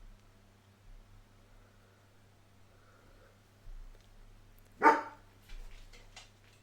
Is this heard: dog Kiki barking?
yes